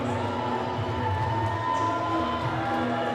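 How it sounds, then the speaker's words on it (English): Hockey fans of a high school team cheer and shout in an arena during a playoff game, a steady loud crowd roar that holds for the whole stretch with no single voice standing out. "Huge cheer from the Washtenaw United fans trying to cheer their team on."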